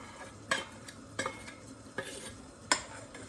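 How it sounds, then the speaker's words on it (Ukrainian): Melted butter being stirred into honey cake batter in a bowl, giving four separate scraping, clinking strokes spaced across a few seconds, close and fairly clear over a quiet background. "Додаємо розтопленого 100 грамів масла сюди, перемішуємо."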